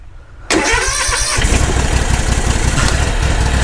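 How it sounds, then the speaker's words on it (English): Kawasaki FR730V small V-twin engine with choke on cranks briefly and catches almost at once, settling into a loud, steady, close running idle. "Let's see if it's gonna start. Probably it will crank for a while"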